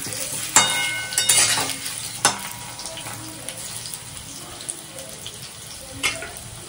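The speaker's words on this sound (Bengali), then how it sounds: "ভালো করে লাল লাল করে ভাজতে হবে" Potatoes frying for Bengali aloo dum, a steady close sizzle with a few sharp clatters of turning and stirring, and a faint running-water hiss underneath.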